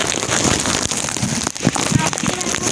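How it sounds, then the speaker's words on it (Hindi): Heavy rain falling on a street in Karachi, a dense steady patter and splash close by, with a voice speaking over it. "यहाँ तेज़ बारिश हो रही है"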